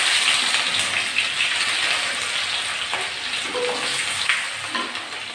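Grated ginger hits hot oil with bay leaves in a pan and sizzles loudly and steadily, a dense close crackle throughout.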